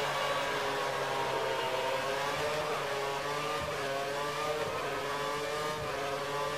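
Race car engine in a racing video game during a wet-weather race in Japan, a steady high-pitched drone held at constant revs with slight pitch shifts, continuous and alone.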